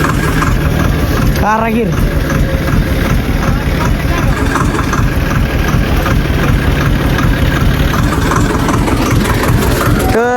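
A Target 630 tractor under repair by a mechanic runs at a steady, loud idle with a constant low rumble throughout, while someone speaks over it.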